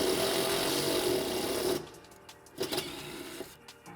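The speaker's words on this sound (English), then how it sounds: "Tightening our screws down." A power screwdriver drives screws to tighten a rear vision camera mount, a steady whirring buzz for nearly two seconds that cuts off, followed by a few brief softer clicks and short bursts.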